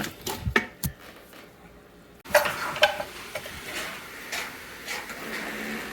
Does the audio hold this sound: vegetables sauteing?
yes